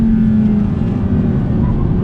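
A sports car engine, a 2020 Audi R8 or C8 Corvette, roars steadily at high revs under throttle, loud and close, with a low droning rumble throughout.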